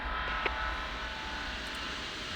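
A jet airliner in the Tower Simulator 3 video game drones on takeoff as a steady, fairly faint engine roar with a constant low rumble, heard alone without talk.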